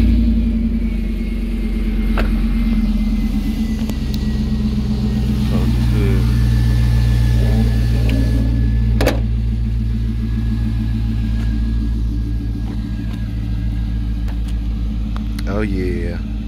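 A Chevrolet Silverado or GMC Sierra pickup truck engine runs with a low, steady rumble close by, holding a rough idle with slight swells in revs, and a voice speaks briefly.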